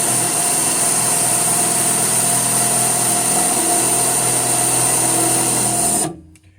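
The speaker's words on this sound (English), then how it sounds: "And I proceed to drill." A loud, steady high-pitched whine of a power drill boring into metal, running continuously for about six seconds, then abruptly stopping.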